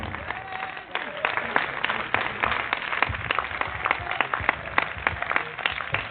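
A church congregation at a fasting prayer service applauds to acclaim the Lord Jesus, dense sustained clapping throughout with a crowd and voices mixed in.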